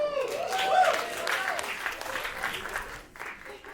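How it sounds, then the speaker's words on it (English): A live comedy audience applauds in a burst of dense clapping that swells early and then tapers, with some crowd noise mixed in. "Clap."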